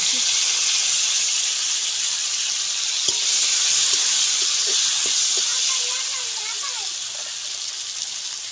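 Chopped tomato hits hot oil with fried silver carp, giving a loud, steady sizzle and hiss with a few soft clinks of stirring.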